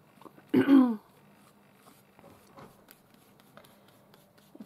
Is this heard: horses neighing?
no